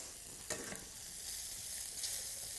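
Mushrooms sweat in a pan for a lentil and tofu broth, a quiet, close sizzle broken by a few soft scrapes and knocks as they are stirred.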